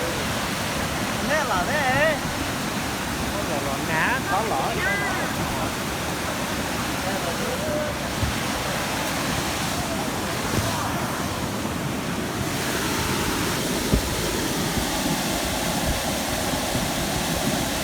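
Floodwater rushes through a culvert and iron pipe, a loud steady roaring wash of turbulent water with wind buffeting the microphone and a voice speaking over it.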